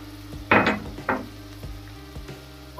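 Crushed ginger and garlic frying with onions in a pan, with two bursts of sizzling as they land in the hot oil, surrounded by soft stirring scrapes and light clinks.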